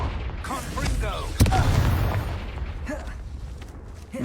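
A single sharp blast goes off partway through, the Confringo explosion spell in the Hogwarts Legacy video game, with scattered game sounds and effects before and after it.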